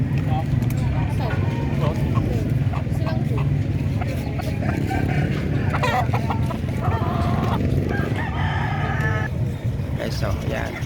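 About 800 chickens at the Malasiqui livestock market cluck and crow together in a busy, continuous din, with a voice talking over the flock.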